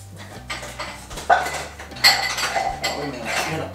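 Stacked dishes, pot lids and yogurt pots clink and clatter as someone rummages under them in a family kitchen cupboard, a rapid run of close, bright knocks with little talking.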